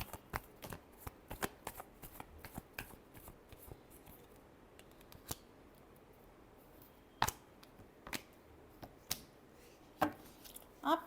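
Tarot cards riffled and shuffled in quick bursts of soft flutters, with sharper snaps and taps between pauses, close and fairly quiet, no talking.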